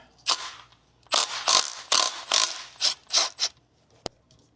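A hand ratchet clicking in quick bursts while loosening 19 mm tensioner bolts on a Lamborghini Jarama V12, about eight rapid ratcheting strokes up close, then a single sharp click.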